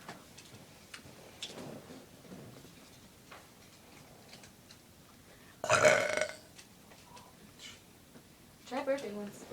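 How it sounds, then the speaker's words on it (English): A person burps once, a short loud belch standing out between quiet stretches of low chatter, with a second briefer burst near the end as people talk. "Try burping once."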